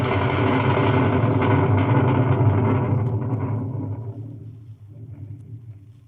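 Storm at sea sound effect from a radio drama adaptation of Treasure Island: a loud, steady roaring rumble like wind and surging water that fades gradually toward the end, with no voices.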